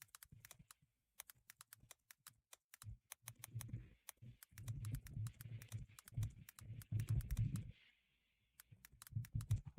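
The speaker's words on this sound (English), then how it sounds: "So this is him right now typing and saying what he's saying in his description." Rapid keystrokes clatter on a computer keyboard in irregular bursts, with denser runs of typing through the middle and end, close and fairly quiet with no talk.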